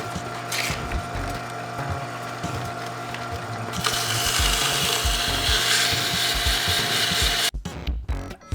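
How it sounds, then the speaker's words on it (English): Inside of a hickory wood ring sanded by hand with sandpaper, a close, continuous rasping rub that grows louder midway and then breaks into short uneven strokes near the end. "we'll hit it with some sandpaper and get this thing cleaned up"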